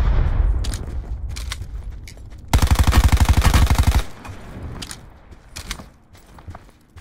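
A rapid burst of automatic gunfire in the shooter game Blackout, about a second and a half of loud, evenly spaced shots, surrounded by quieter footsteps and movement sounds.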